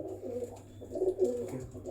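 Soft, low coos from a pigeon of the MeraDona breed repeat in a murmuring rhythm, close by and fairly quiet, with no voices.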